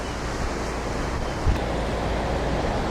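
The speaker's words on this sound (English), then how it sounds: "You can see we got some pretty big waves coming in here." Agitated ocean surf churning steadily as Hurricane Rita approaches, a loud, continuous wash of breaking waves mixed with wind noise buffeting the microphone.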